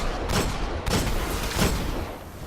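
Grenade explosions in the video game Destiny, an abyssal grenade going off among enemies: three sharp, booming bursts about half a second apart, each with a short noisy tail, loud and close.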